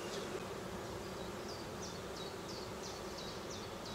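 A honeybee colony buzzing at an open hive during anti-swarming work, a dense, continuous hum from many bees heard close and fairly quiet, with no talk over it.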